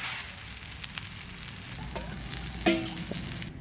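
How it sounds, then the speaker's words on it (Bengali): Kadaknath chicken egg frying on raw turmeric leaves over an outdoor village fire, a soft continuous sizzle with light crackles and a brief clatter near the end, no talk. "হলুদ পাতায় ডিম ভাজা হয়ে গেছে"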